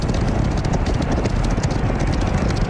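Rapid clip-clop of horse hooves galloping in a VR horse racing video game, dense and steady throughout, close and fairly loud with a low rumbling background.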